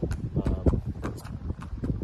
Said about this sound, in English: She walks good, but I mean, there's probably horses out here that would outwalk her.